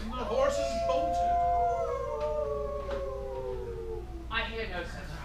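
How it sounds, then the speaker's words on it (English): Drawn-out canine-style howl used as a stage sound effect during a live comedy-horror play, rising and wavering for several seconds at moderate volume before a second short howl starts near the end. "Didst thou not hear the howling when the horses bolted?"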